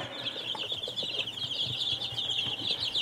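Young meat-bird chicks in a group, a constant high-pitched cheeping chorus with soft scattered clucks and rustling, close and steady throughout.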